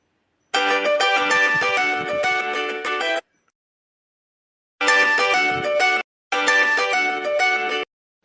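A loud electronic phone ringtone plays a bright melody in three bursts, separated by brief silences.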